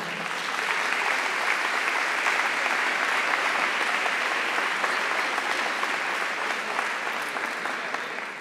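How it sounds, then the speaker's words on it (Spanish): An audience at a provincial education congress gives a loud, dense, sustained round of applause that holds steady for several seconds before easing slightly at the end. "queríamos agradecerles y brindarles un fuerte aplauso"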